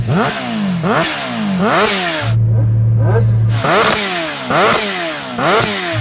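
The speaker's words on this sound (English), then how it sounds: "it's got a noisy exhaust on it, but what I really heard was the induction sound from that supercharger" A supercharged Kawasaki H2R motorcycle with a noisy exhaust revs hard and close in repeated rising blips that climb and drop back, roughly one per second, broken by a short steady idle-like drone, loud throughout with no speech.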